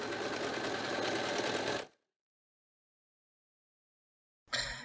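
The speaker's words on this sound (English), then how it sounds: "with a large zigzag, top stitch the lace, the jersey, and the elastic down, leaving the tiny little scallop outside" A sewing machine running a wide zigzag top-stitch over lace, jersey and elastic on lingerie, a close steady whir for about two seconds, then silence, then a short restart at the end.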